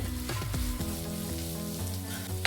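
Onion fries in a pan for egg bhurji, a dense, continuous sizzle with crackling bursts and a faint stirring scrape, close and steady with no talking.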